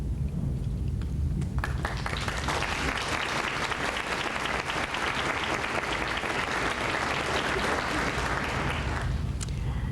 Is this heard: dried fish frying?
no